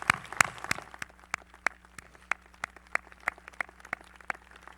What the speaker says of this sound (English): Let's give your parents and families a round of applause.